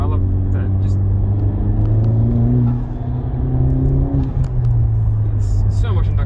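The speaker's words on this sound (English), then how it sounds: "It's so much induction noise, so much power." 2019 Honda Civic Type R FK8 with a turbo engine accelerating, heard from inside the car: a steady loud engine drone and induction whoosh with rising tonal whine, continuous throughout.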